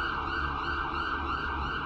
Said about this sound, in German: Pass auf, hier kommt ein Polizeiauto reingedust.